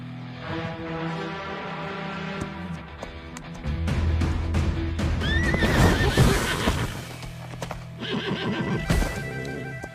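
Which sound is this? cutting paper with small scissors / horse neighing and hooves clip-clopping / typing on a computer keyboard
horse neighing and hooves clip-clopping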